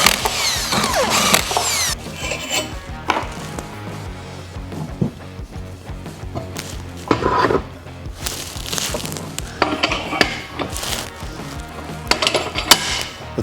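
Metal fingers dropped into the upper die of a SWAG Off Road press brake and bolted down, giving close, loud metallic clanks, ratcheting wrench clicks and scraping in irregular bursts with quieter gaps between.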